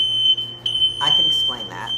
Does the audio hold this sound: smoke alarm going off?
yes